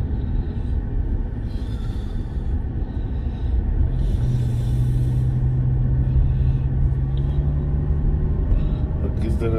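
Heavy road traffic in El Tejar, Chimaltenango, Guatemala: a dense, continuous low rumble of engines and tires with a sustained droning tone from a large vehicle, as a voice talks over it.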